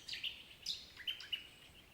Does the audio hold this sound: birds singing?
yes